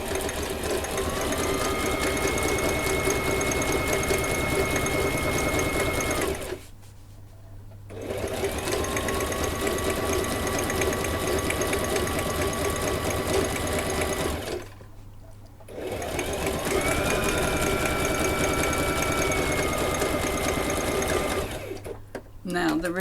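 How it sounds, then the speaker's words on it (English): A sewing machine stitches down the pocket edges of a handmade blank journal, running loud and steady in three long bursts separated by brief stops, with a faint voice talking underneath. "I want to sew down the edges of the pockets"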